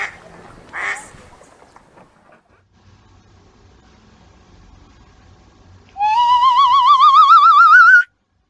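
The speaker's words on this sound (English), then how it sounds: "This is a duck." A duck call rings out alone for about two seconds near the end, loud and close, with a wavering, warbling buzzy tone after a mostly quiet stretch with faint murmuring early on.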